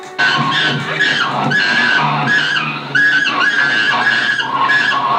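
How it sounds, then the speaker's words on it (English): A car swerves and skids in a scene from the 1985 film Phenomena, with loud, repeated tire screeches rising and falling in bursts over about five seconds. "So the killer swerves the car around a bit, until he manages to toss the chimp off and escape in peace."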